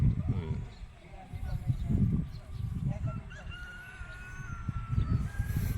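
Free-range chickens on a Philippine farm with a vegetable garden, clucking and a rooster crowing in the background under steady outdoor noise, while someone talks over them.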